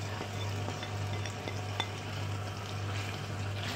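Chopped onions stirred in a pan give a soft, steady sizzle with occasional light scrapes and a low hum beneath, quiet and close, in a bitter gourd and onion dish.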